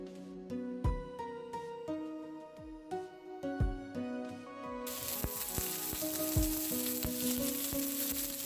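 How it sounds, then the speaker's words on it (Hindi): Onion sautéing in two tablespoons of oil in a pan gives a steady frying sizzle, joined by clinking utensil taps early on and then a louder, denser hiss of continuous frying, with no talking. "ये 2 टेबलस्पून ऑयल में ऑनियन को बस मैंने 2-3 मिनट सॉटे करके निकाल लेना है"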